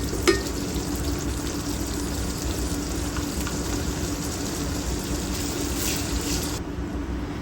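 A Bengali rui fish curry masala of onion, tomato, ginger-garlic paste and chili frying in a pan, giving a continuous close sizzle with a brief stir clatter near the start, no voices.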